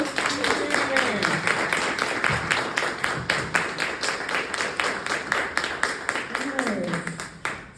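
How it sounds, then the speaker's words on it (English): An auditorium crowd applauds keynote speakers at a Caltech MLK event, with steady dense clapping running throughout and a few voices murmuring beneath it. "Join me in giving another round of applause for our Keynote speakers."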